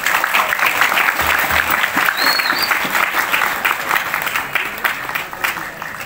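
Loud, sustained applause from a school audience gathered on an outdoor field for a Maulid Nabi celebration, steady dense clapping filling the whole stretch, with a faint voice briefly rising above it.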